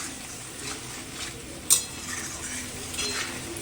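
Onion and tomato frying with spices such as chilli and turmeric powder in a pan, a soft sizzle under stirring scrapes, with one sharp metallic clink from the utensil midway.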